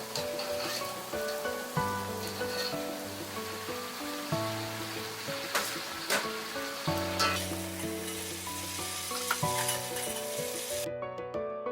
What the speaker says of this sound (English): Chopped onions and fry a little.